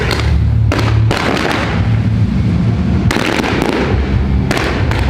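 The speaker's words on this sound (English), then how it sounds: "Fireworks to celebrate a well-made game." Fireworks at a metal festival boom and crackle in dense, repeated bursts, loud and close, with sharp bangs and rolling thuds overlapping one another across the whole stretch.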